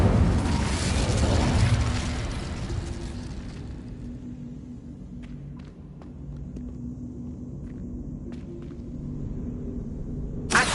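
A fiery blast from the Incendio spell in Hogwarts Legacy, a loud low rumbling whoosh for the first few seconds that fades into a quieter ambient bed with faint scattered clicks.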